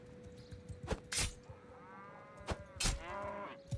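Cattle in the video game Bannerlord, a couple of drawn-out, wavering moos, fairly faint and distant against quiet game ambience and a few short thuds.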